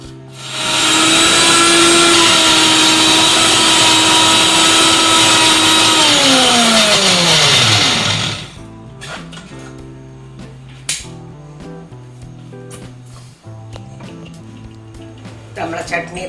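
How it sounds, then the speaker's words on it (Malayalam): Kitchen mixer grinder blending tomato coconut chutney, a loud high whine for about eight seconds that falls in pitch as it spins down, followed by quieter clinks and handling of the jar. "ഇനി മിക്സിയിലിട്ട് നല്ലോണം അരച്ചിട്ട് എടുക്കാം"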